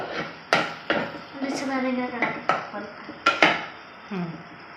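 Mushroom roast with ginger and garlic is stirred vigorously in a pan. A utensil strikes and scrapes the metal in sharp, uneven clanks, about eight in quick succession, close and distinct.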